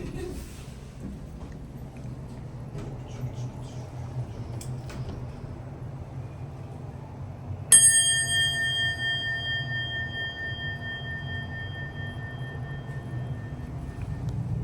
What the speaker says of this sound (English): I absolutely love the dinner bell on this.